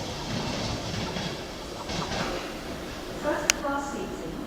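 Rail train at Ipswich Station heading to London Liverpool Street with DVT 8212 on the rear, a steady rumble of rolling stock passing through, with a sharp clank and brief squeal near the end.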